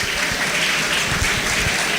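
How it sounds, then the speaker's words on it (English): Audience applause at a high school old boys talk evening, dense continuous clapping filling the room at even loudness with no breaks. "So thank you, please clap for them"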